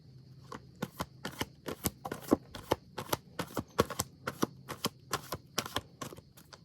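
Oracle cards being riffle-shuffled in a stone tomb, a rapid series of sharp papery flutters and snaps in quick bursts, close and crisp, with no voices.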